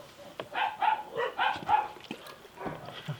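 Several dogs bark in a home kitchen during cooking, about six short, sharp barks in a quick, uneven run at moderate distance, with no talking.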